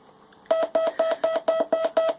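A CW paddle key set to single paddle mode sends a run of seven evenly spaced Morse dits, each a short, loud, clear electronic tone pulse with a quick, regular rhythm.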